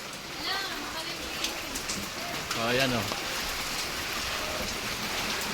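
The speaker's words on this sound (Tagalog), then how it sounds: "Kaya kailan mga masama, umuulan na naman." Rain comes down over floodwater in a Bacoor street, a constant close hiss of drops while someone talks briefly over it.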